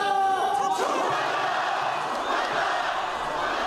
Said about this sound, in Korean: 새만금 예산 복원을 촉구하는 함성이 국회를 가득 메웠습니다